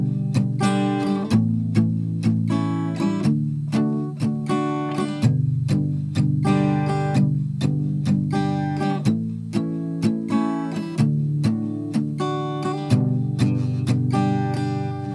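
Acoustic guitar strumming the chorus chord progression of a song, steady rhythmic strums with clear chord changes, close and alone without talk.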